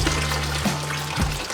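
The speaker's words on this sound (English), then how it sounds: "And just freaking pour it out." A pot of water is poured out to strain it, a continuous close splashing gush with a low steady hum underneath, brief and uninterrupted.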